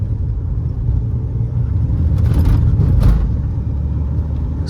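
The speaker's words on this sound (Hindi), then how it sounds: "पहले मैं आपको इसकी ऑफ रोडिंग करके दिखाऊँ थोड़ी बहुत गड्ढों के अंदर।" A Mahindra XUV500 SUV in third gear, driven off-road through potholes, gives a steady close engine drone and road rumble with a few bumpy thuds midway.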